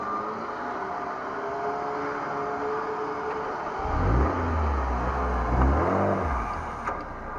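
A Land Rover being recovered off-road holds a rough, low engine drone that swells into two strong revving surges, loud and close, with no talk over it.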